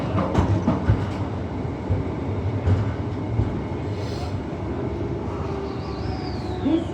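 An A-series electric passenger train in Perth rides over a bumpy section of track, heard from inside as a steady rolling rumble with irregular knocks and rattles.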